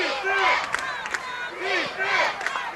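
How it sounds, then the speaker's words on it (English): Crowd cheering and yelling at a high school football game, rising in repeated surging waves of shouts, loud and continuous with no talk. "You can hear the crowd trying to will their Panthers defense on."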